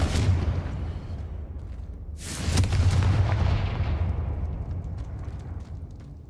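Booming fire-spell explosions in Hogwarts Legacy, a loud blast bursting in around two seconds, then rolling and rumbling away over the next few seconds, with no voices.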